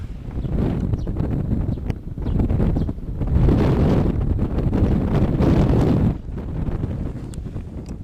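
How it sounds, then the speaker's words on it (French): Strong wind buffets the microphone in loud, rumbling gusts that swell and ease for several seconds, with no voices. "Il y a beaucoup de vent"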